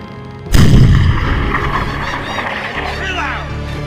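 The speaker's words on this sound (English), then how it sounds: "Fire the cannons, aye, sir." Ship's cannon fires over the bow in a single loud, close blast that rolls into a long rumbling decay, with faint voices beneath the fading boom.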